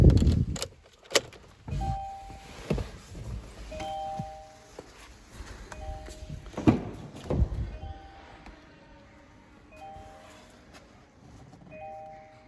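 Two Kia Sportage 2019 car keys jangle and clink up close, while a short electronic chime repeats several times in the background.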